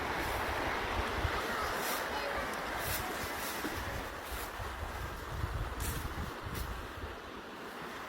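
River water rushes and flows steadily outdoors in Zimbabwe, a broad continuous wash of noise with wind buffeting the microphone, and a person talks over it at times.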